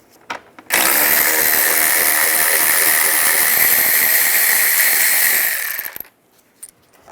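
Loud continuous power tool whir running steadily for about five seconds, removing bolts with a 10mm socket on a 2007-18 Jeep Wrangler during an ignition coil replacement, starting abruptly and winding down at the end.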